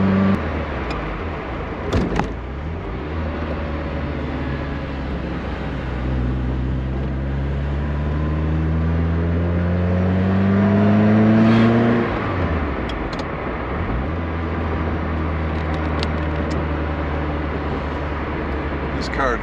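A Ferrari 308 GTS drives on a test drive, its engine droning steadily close by with rising and falling pitch as it accelerates through gears, and a brief thump near the start.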